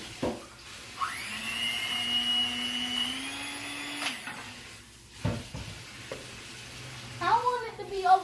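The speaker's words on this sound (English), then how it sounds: "We're gonna cream the cream cheese with a hand mixer." Electric hand mixer creaming cream cheese for bread pudding, a steady whirring motor hum that starts about a second in and runs about three seconds before cutting off, with brief clatter and a voice after.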